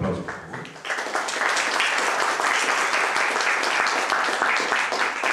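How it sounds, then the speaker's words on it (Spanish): Audience applause at a 2015 COPARMEX Oaxaca business press conference, a dense, steady wash of many hands clapping that swells in after a brief quieter start and holds loud through the end. "Un aplauso, por favor."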